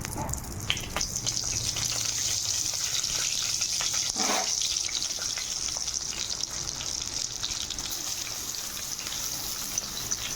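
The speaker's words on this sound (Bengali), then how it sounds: "তো কড়াইতে তেল দিয়ে দিয়েছি, একটা একটা করে আবার পটলগুলো সব ছেড়ে দেবো।" Stuffed pointed gourds frying in hot oil in a kadai, a steady loud sizzle and crackle throughout with a brief splash-like burst midway.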